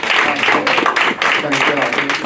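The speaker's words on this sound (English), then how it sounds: "let's give Ms. Wright another round of applause" A crowd applauds Ms. Wright at an educators' empowerment conference: dense, sustained clapping, loud and close, running steadily with a brief dip midway.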